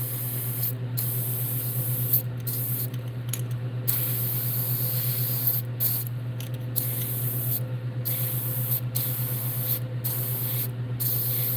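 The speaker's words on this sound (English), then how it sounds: "what I'm doing now is just spraying under belly yellow" Airbrush spraying yellow paint onto the underbelly of a realistic bluegill fishing lure: a steady, close hiss broken by several brief pauses, over a constant low hum.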